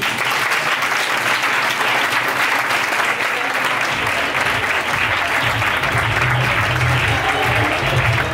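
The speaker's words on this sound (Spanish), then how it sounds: "Un fuerte aplauso." Loud, dense audience applause greets a performer being introduced on stage, a continuous roar of many hands with some crowd murmur mixed in, steady from start to finish.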